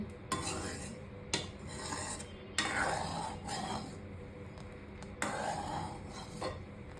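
Milk cream is stirred in a pan while it cooks down into ghee, giving a close scraping and rubbing sound in repeated strokes with sharp onsets about every second, under a faint background hiss, with no talking.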